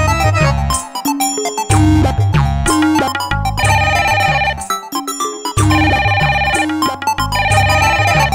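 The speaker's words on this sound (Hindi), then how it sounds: "समीर फोन उठेबी ना रिद्धि फोन उठेबी" A phone ringtone plays loudly in a repeating melodic pattern of bright synthesized tones over a steady bass line, with no voices.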